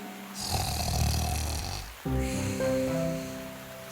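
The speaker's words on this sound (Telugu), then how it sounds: "ఎంత గట్టిగా గురక పెడుతోందంటే చెట్టు ఆకులు కూడా కదులుతున్నాయి." A sleeping wolf in an animated children's story snores loudly, two long rumbling snores with a breathy, rattling rise and fall, heard up close and alone.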